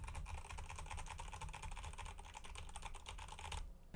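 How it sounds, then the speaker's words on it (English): Rapid, continuous clatter of keys being struck on a computer keyboard, fast and busy, close up and fairly quiet, with no talking. "I'm just going to go ahead and go ham on my keyboard here"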